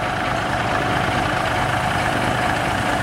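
A big tractor engine idles loudly and close at a dense, steady, heavy rumble that holds unchanged throughout, with no voices.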